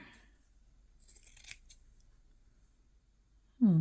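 Scissors snip through fabric for a needlebook in a few quiet, crisp cuts near the middle, in an otherwise hushed room, with a voice starting at the very end.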